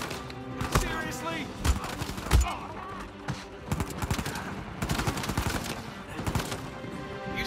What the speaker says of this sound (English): Stop your stupid shooting!